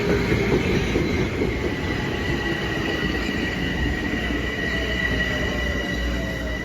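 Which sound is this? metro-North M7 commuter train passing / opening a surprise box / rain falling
metro-North M7 commuter train passing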